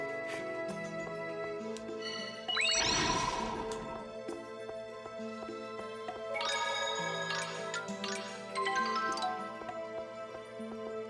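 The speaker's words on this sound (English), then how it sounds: "These bells, to be exact." Chiming bells in the Tales of Symphonia video game, bright ringing tones struck in several clusters over a sustained musical background, moderately quiet with a crashing burst early on.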